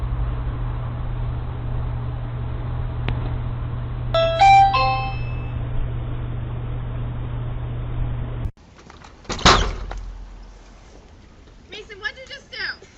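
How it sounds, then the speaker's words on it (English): A lizard sets off a Ring video doorbell, which plays a short rising chime tone sequence over steady background hiss, followed by a clatter and faint speech-like sounds as the recording shifts. "This lizard decided to ring this doorbell."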